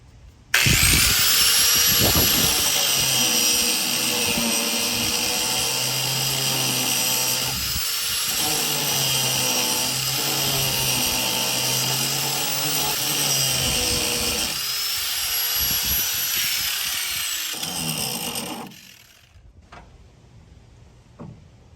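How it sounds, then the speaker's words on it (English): A grinder cutting flat spots on a metal steering part for a 1966 Ford Econoline electric power steering swap, a loud, sustained high-pitched whir with small changes in load and pitch for about eighteen seconds before it winds down to quiet. "So now I just need to grind a couple of flat spots on there for that to fit in"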